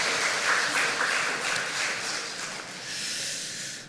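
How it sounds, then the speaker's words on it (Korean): A church congregation claps during a Sunday worship service, a fairly soft, diffuse patter of many hands that swells and eases slightly over a few seconds. "하나님께 영광을 박수 올려드리겠습니다."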